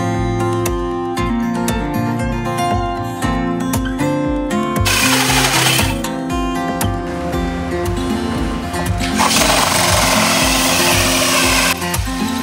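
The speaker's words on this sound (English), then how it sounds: "This drill's getting too hot." A power drill runs hot during shower trim installation, its motor whining continuously with shifting pitch and rough bursts of grinding noise. The sound is loud and close, with no talk.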